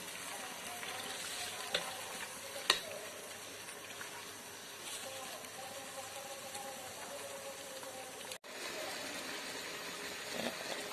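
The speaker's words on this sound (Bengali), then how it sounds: "এখন মাংসটা ভালোভাবে একটু কষিয়ে নেব।" Chicken meat being sautéed for biryani in a pan gives a steady, moderate frying sizzle with a few sharp clinks and scrapes of stirring, and no talk over it.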